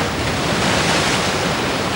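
Ocean waves on a warm equatorial sea make a steady, loud, broadband wash of surf, continuous with no distinct breaks and no voices over it.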